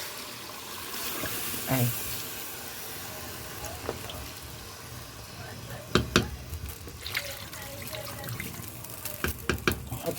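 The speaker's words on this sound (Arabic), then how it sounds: "اهو يا حبايبي هنحط الميه" Water goes into a cooking pot holding onion, tomatoes and carrot for a trotters soup, a faint, uneven splashing and clinking in a quiet kitchen, with a brief spoken word and a few sharp knocks near the end.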